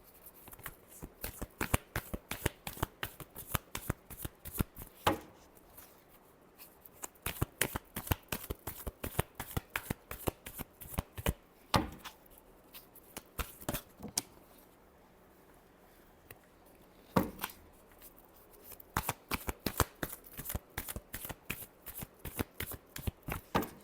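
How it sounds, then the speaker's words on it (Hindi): Tarot cards being shuffled by hand, a fast rhythmic riffle of crisp flicks in repeated bursts with brief pauses between rounds, close and clear with no talking. "Last shuffle."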